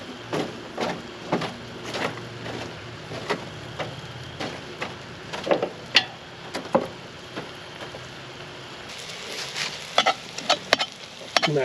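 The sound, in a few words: mashing chorizo with mirepoix and herbs in a pan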